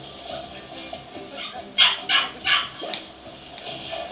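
Several sharp dog barks ring out in a quick cluster midway, over a faint background hum, with a few softer yips around them.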